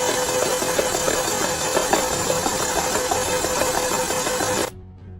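An Audi Q5 engine is cranked over to flush out excess oil, whirring and rattling steadily and mechanically for several seconds before cutting off sharply.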